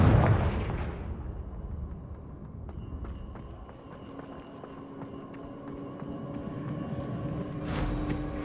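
A Confringo blasting spell from Hogwarts Legacy bursts loudly at the start and rumbles as it decays over about a second. Softer game ambience follows, with footstep-like taps and a second swell near the end.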